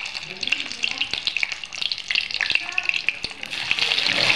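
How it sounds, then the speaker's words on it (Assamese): Garlic frying in hot mustard oil in a wok while being stirred, giving a steady, bright sizzle with scattered crackles and pops throughout. "এতিয়া তেলখিনি গৰম হৈ যোৱাৰ লগে লগে নহৰুখিনি তাতে দি দিছোঁ আৰু একদম নহৰুখিনি মানে কোমল ভাৱটো আহি যোৱালৈকে এনেকৈ লৰাই পূৰা ভাজি থাকিম"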